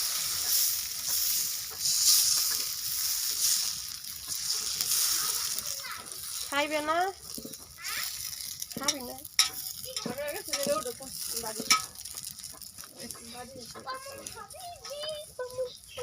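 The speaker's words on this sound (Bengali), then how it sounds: "চাপটি এখন দিতেছে কড়াইতে" Chapati batter sizzles and fries in a hot wok, a soft steady crackle heard under nearby talking and children's voices.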